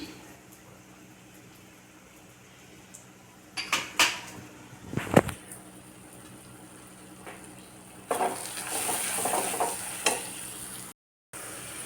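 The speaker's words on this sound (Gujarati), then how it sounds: "લસણની પેસ્ટ જુઓ સરસ સંતળાઈ ગઈ છે સાઈડમાંથી આવી રીતે તેલ છૂટું પડવા માંડે" Garlic paste sautés in hot oil in a pan for dhaba-style garlic potatoes, a quiet sizzle broken by scraping stirs and clanks of a spoon, then a louder, steady frying hiss near the end before a sudden cut.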